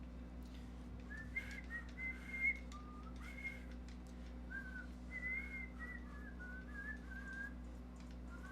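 A person whistles a wavering, somewhat unsteady tune in short phrases, fairly quiet over a low steady hum in the room.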